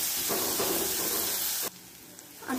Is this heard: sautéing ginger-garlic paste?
yes